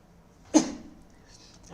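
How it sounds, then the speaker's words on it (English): A person sneezes once, close by: a single sharp, loud burst that fades quickly into a quiet room. "I'm sorry, but I am suffering from sneeze."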